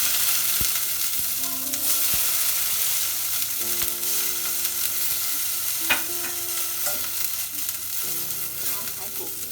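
Dried chillies fry in hot oil for spicy and sour pork ribs, giving a continuous bright sizzle broken by occasional stirring scrapes and clinks, close and fairly loud.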